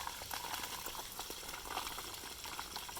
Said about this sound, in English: So I'm just pouring off slowly. This is called decanting.